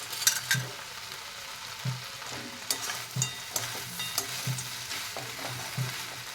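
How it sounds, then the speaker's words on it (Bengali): Pui shak and bhetuli vegetable curry with potato and fried lentil bori being stirred in a pan, a spatula scraping in a steady repeated rhythm over soft frying sizzle, close and fairly quiet. "আবারও ভালো করে নেড়ে নেব"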